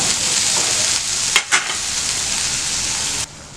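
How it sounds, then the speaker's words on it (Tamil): Chopped ridge gourd sautés in a hot pan for a chutney, a steady loud sizzle with two brief stirring scrapes partway through before the hiss drops off. "இப்போ நம்ம பீர்க்கங்காய் ஆட் பண்ணிக்கலாம். இது கொஞ்ச நேரம் வதங்கட்டும்."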